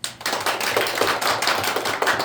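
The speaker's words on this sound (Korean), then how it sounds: "다 박수하겠습니다." A church congregation claps during a Sunday worship service, a lively stream of many hands at close range with uneven, pulsing peaks.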